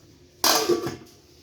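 A lid set down over a pot of Bengali drumstick and potato curry, one brief clanking contact with a short metallic rattle, close and fairly loud, then quiet.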